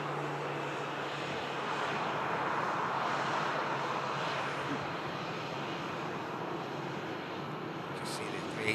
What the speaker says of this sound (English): Just see the 380 now continuing the taxi as the Jet2 pulls past